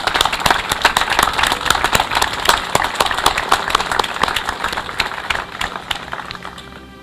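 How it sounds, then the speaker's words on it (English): Applause at an outdoor Field of Honor ceremony honoring military service members: dense, steady clapping from a crowd lasting throughout, with some sharp individual claps standing out near the front and tapering off toward the end. "So let's give them a round of applause."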